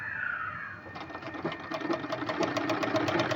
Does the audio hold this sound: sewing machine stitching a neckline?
yes